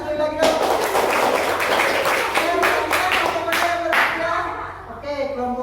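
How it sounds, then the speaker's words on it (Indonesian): A classroom of students claps again for a group, a burst of many hands in quick, uneven rhythm filling about five seconds, close and fairly loud, with voices mixed in before it fades. "Tepuk tangan sekali lagi dong."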